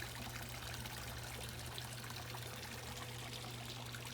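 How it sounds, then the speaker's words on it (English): Water trickles steadily in a garden pond, a soft continuous pouring sound with a faint low hum beneath, heard alone and fairly quiet throughout. "A pond for the sound of water."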